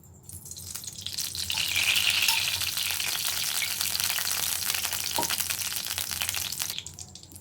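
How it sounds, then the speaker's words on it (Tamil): Oil heating in a hot kadai on the stove fills the scene with a steady, loud frying sizzle that swells and holds for several seconds before easing off, with no voices. "கடாய் சூடாயிடுச்சு. இப்போ எண்ணெய் ஊற்றிக்கிறேன்."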